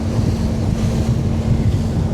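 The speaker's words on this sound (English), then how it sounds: "It is really windy today" Strong wind buffets the microphone aboard a Nordhavn 50 motor yacht in a constant loud roar, with a low engine-like hum underneath and no voices.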